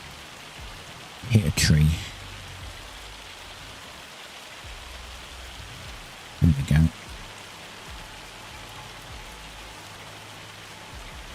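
Heavy rain pours steadily on a farm in Iowa, a dense, even hiss filling the whole stretch, with two brief bursts of a man's speech breaking through.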